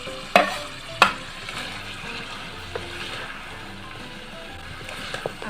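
Mutton curry with half-cooked potatoes and freshly added carrots cooks in a pot with a soft, low bubbling sizzle, broken by two sharp spoon-on-pot clanks early on and a few lighter taps later.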